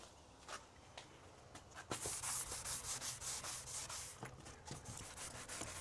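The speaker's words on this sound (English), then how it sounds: "Just wanna lightly sand it." Sandpaper lightly scuffing a painted patio screen door, a raspy rubbing that grows into steady back-and-forth strokes midway, close up, with occasional taps and no talk.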